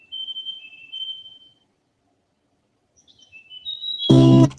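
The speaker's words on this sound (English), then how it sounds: "So what is better that have the sounds of a bird at the beginning of the track?" Bird song opening a studio recording: soft clear whistled chirps, a short phrase, a pause of silence, then another rising phrase just before music abruptly enters loudly.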